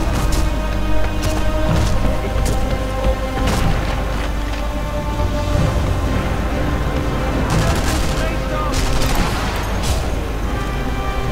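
Gunfire in the World War II sniper game Sniper Elite V2, played in co-op: a steady stream of shots and booming blasts over constant background din, dense and loud throughout, with no clear talk.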